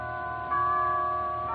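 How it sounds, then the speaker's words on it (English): Big church bells a block away chime the carol Adeste Fidelis in a radio drama, a steady sustained tone ringing out at moderate level with a slight swell partway through. "You could hear the chimes of the big church a block away playing Adeste Fidelis."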